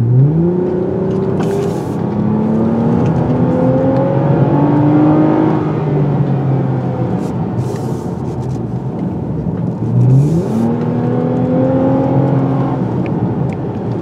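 A 2022 Toyota Camry TRD engine accelerating on a road test, climbing through gears in repeated rising revs with a brief drop between shifts, loud and close throughout.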